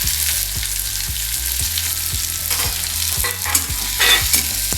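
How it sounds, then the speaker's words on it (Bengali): Potatoes being stirred in a frying pan for Bengali aloo dum, with a steady sizzle of oil under rhythmic scraping strokes of the spoon, close and fairly loud throughout. "এবার একটু করে করে নাড়া হচ্ছে।"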